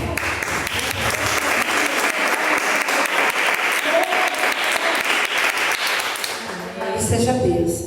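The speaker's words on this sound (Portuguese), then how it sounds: "Vamos dar uma salva de palmas para ela." A church congregation applauds at a morning service, dense, loud clapping filling the room for several seconds before tapering into quieter murmurs and a voice near the end.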